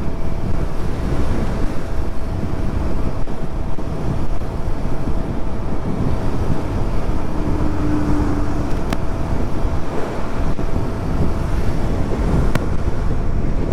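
Royal Enfield Himalayan 450 motorcycle cruising steadily on a highway, a continuous loud rush of engine and road noise dominated by heavy wind buffeting across the whole stretch, with no talking.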